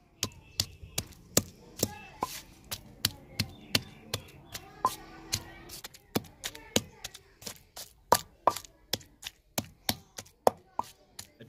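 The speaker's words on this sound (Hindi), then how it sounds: "अच्छे से कूटने के बाद" Guava chutney ingredients are pounded by hand in a village kitchen, giving a steady run of roughly two dozen sharp, close knocks at an even rhythm. A faint voice is heard in the background.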